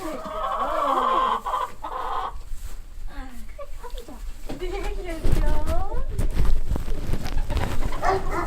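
Chickens cluck and squawk around a farm yard during livestock-guardian puppy training with young Maremma pups, their calls ongoing under nearby people talking throughout.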